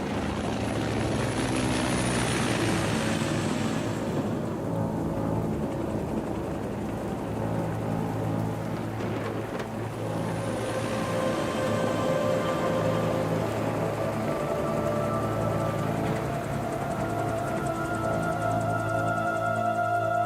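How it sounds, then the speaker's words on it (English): A video game helicopter sets down on a front lawn, its rotor thumping steadily and loudly throughout while the engine whine rises and falls. "Nice stealthy entry with the helicopter on the front lawn."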